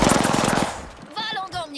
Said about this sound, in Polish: Walą do mnie.